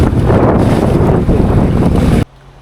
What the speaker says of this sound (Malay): Ribut ombak kuat.